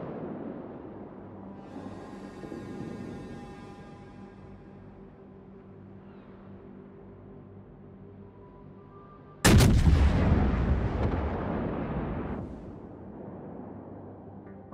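Warship guns fire in the naval video game World of Warships with one loud, sharp boom around the middle. The blast rumbles and decays over a few seconds after a quieter stretch of droning game ambience and tonal music.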